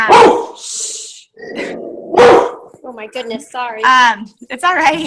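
A dog barks twice in sharp, loud bursts at close range, with a brief whine between them, followed by a person speaking apologetically.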